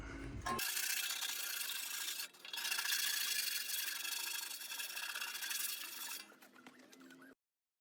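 A wire brush scrapes and rasps rust off the steel tray of a Ford Ranger in close, bright, continuous strokes with one short pause midway, then stops near the end.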